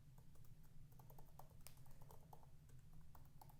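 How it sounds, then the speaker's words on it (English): Typing on a computer keyboard: faint, quick clicks of keys tapping in an irregular rhythm under a steady low hum, with no talking. "I'm typing here, so you might hear clicking"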